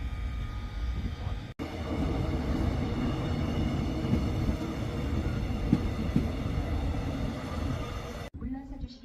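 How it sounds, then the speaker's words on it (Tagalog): A train pulling into a station in South Korea in winter, a loud low rumble and rolling clatter that holds steady for several seconds before cutting off. "Nandiyan yung train mga ropa"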